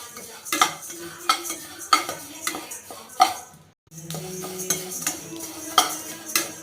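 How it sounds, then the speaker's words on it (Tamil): A spoon stirs black urad dal as it dry-roasts in a pan, scraping and rattling in a steady rhythm of close, loud strokes, with one brief pause midway. "கருப்பு உளுந்து இது நல்ல வாசனை வர வரைக்கும் இதை நம்ம வறுத்துக்கலாம்"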